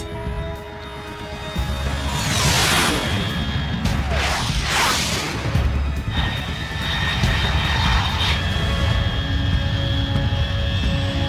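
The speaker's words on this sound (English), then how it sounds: "Unidentified aircraft detected" In Metal Gear Solid 3: Snake Eater, a fast jet aircraft roars overhead, its engine noise swelling in loud whooshing passes with bursts of crashing impacts and a sustained rumble throughout.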